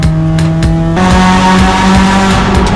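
A Peugeot 106 GTI with a Varex sport exhaust rumbles loudly and continuously, with a deep, throaty exhaust note that surges and revs throughout.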